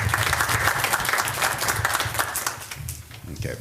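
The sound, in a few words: applause at a board meeting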